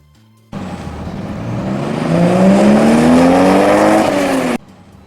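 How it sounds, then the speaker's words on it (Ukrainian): A car drives past, its engine growing louder and rising in pitch as it approaches, then cutting off abruptly after a few seconds. "це їде автомобіль."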